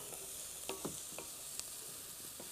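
Carrots sizzle softly in a hot pan as a steady, quiet frying hiss, broken by a few light scrapes and taps of stirring, with no voices.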